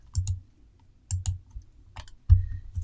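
Sewing clips snap onto the edge of a fabric pillow with a trim-basted pocket. A few short, close plastic clicks come in small clusters, with quiet pauses between them.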